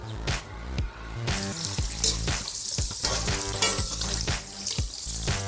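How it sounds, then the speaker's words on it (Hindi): Okra turning lightly red fries in a pan, a close and continuous sizzle with crackling pops and occasional stirring clatter that rises and falls irregularly. "भिंडियाँ जो हैं वो फ्राई होने वाली हैं"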